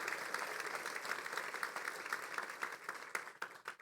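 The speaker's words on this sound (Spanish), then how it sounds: "¿Alguien puede darle un aplauso al Señor?" Sustained applause from a church congregation during a sermon, dense steady clapping filling the space, with a few sharper claps standing out near the end.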